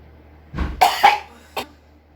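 A person fakes coughing as a prank, letting out a few loud, close coughs in quick succession, then one last short cough after a brief pause.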